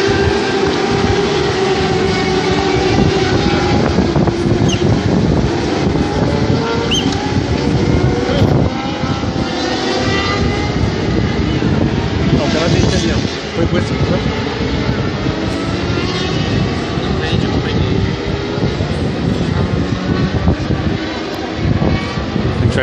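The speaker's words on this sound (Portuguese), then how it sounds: "Vai ver só a passagem aqui do pessoal acelerando no máximo aqui." Superbikes race at full throttle past the Interlagos circuit during the 2016 Superbike Brasil opening round, a dense, continuous, loud engine roar that barely lets up for over twenty seconds.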